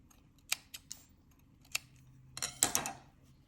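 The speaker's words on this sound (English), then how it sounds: "And now I just cut the ends off." Scissors snipping the yarn ends of a crochet fish bookmark: several crisp, close cuts spaced irregularly, ending in a quick cluster of snips over a quiet background, with no talk.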